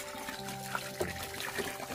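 Water is poured into a container to mix an all-purpose 14-28-14 fertilizer for young cucumber plants, making a soft, continuous trickle with faint splashes and background hum.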